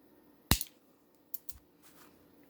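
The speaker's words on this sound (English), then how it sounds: "I'm going to go ahead and trim off the excess." Jewelry cutters trimming excess wire from a blue and crystal beaded bracelet: one sharp close snip, then two quieter clicks a moment later in an otherwise quiet room.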